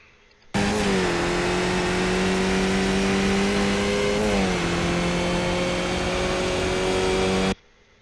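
A Skip Barber race car at Brands Hatch on cold tires in iRacing drones loudly and steadily as it accelerates, its engine pitch rising, dipping once at a quick upshift into third, then climbing again, with no talking.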